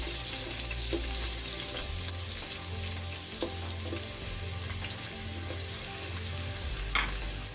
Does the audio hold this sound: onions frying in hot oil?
yes